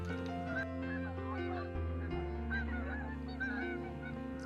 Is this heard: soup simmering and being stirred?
no